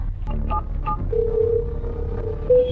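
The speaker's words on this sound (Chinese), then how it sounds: "行，我现在就给店主打电话啊" A telephone being dialed: a few short tone blips, then a steady tone held for over a second, over a low background hum.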